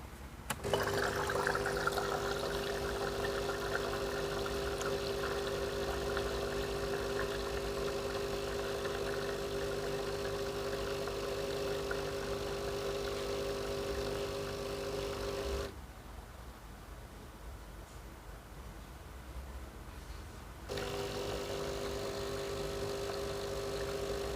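Breville Barista Pro BES878 espresso machine on its descale cycle, running a steady pump hum with water flow for about fifteen seconds, then a brief quieter hiss before the pump hum resumes.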